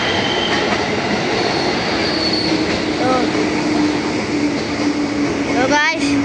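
A KRL commuter train on the Jakarta–Bogor line rolls into a station, its steady loud rumble broken by brief wheel squeals near the end, with speech partly masked underneath.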